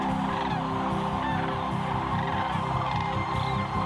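Sandhill cranes calling alongside a family of whooping cranes heading out to feed in nearby fields, a dense, continuous chorus of overlapping bugling and honking voices from many birds, steady and moderately loud throughout.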